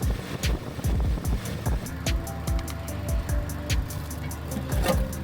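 A Mk1 Audi TT engine idling as it warms up to temperature, a steady low rumble with repeated rhythmic pulses and occasional sharper ticks, fairly close and alone.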